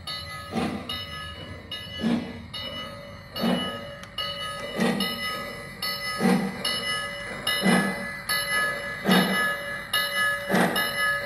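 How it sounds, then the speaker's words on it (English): A Lionel model train pulled by an NYC Hudson locomotive runs along the track, its regular rhythmic clacks repeating about every second and a half over a steady mechanical hum, with no talk. "train in motion, heading out."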